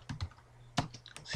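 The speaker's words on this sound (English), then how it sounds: "So we just type in sudo" Quick, light keystrokes tap on a computer keyboard while a command is entered, a handful of close, crisp clicks in an irregular rhythm over quiet background.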